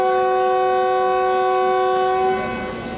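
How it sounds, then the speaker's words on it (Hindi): Fareed Express train at Kot Lakhpat station sounds a long steady horn or whistle tone, loud and close, which fades slightly near the end as the train begins moving. "दूसरे डिपार्चर विसल के साथ ट्रेन भी मूव करने लगी"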